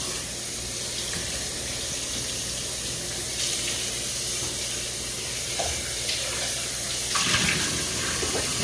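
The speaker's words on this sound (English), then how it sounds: "I've got warm, sudsy water here, so I'm just going to wash this out a little." A measuring cup gets washed in a sink of warm, sudsy water, giving a steady, close wash of splashing and running water with a few louder clinks and sloshes.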